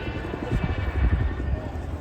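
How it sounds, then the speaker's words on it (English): A Chinook helicopter performing at an air display, its rotor thump a low, steady pulsing roar that swells and fades slightly, heard at moderate distance under faint commentary-like background. "Everyone on 27 Squadron are extremely proud to bring you the 2022 Chinook display."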